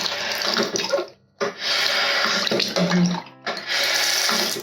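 Tap water runs steadily into a hotel bathroom sink with a brief pause, then gushes again, close and fairly loud.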